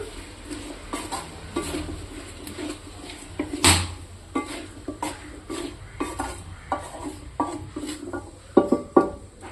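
Onions and salt are stirred in a pan for chicken curry: a spoon scrapes and knocks against the pan in irregular strokes over a soft sizzle, close and clear, without talk.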